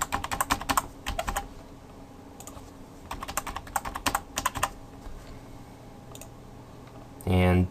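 Computer keyboard keys tapped in quick bursts while a password is entered during database setup, a few separate clusters of crisp clicks with pauses between, fairly close and quiet, ending in a short louder thump.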